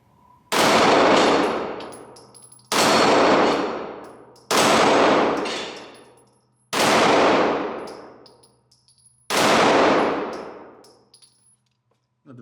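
Five loud, sharp gunshots from a Springfield XDM Elite pistol fired at flipping steel targets, each crack followed by a long ringing decay, spaced about two seconds apart with no talking.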